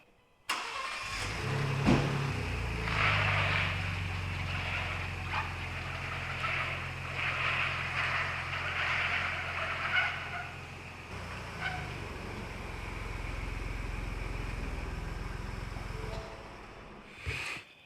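A Ford Bronco on a new Bilstein adjustable suspension lift starts up and idles, then a steady mid-pitched engine drone holds before it changes as it pulls away around the block, with a brief dog bark near the start.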